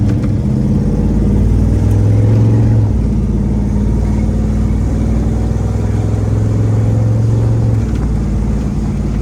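1972 Chevrolet Monte Carlo big block convertible driving down the road, a loud, deep engine drone that climbs in pitch through the gears, with audible shift points around three and eight seconds.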